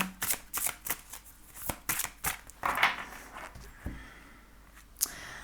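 A tarot deck is shuffled and cut by hand, a quick series of crisp riffling and slapping card sounds followed by a few softer taps, close and quiet with no speech.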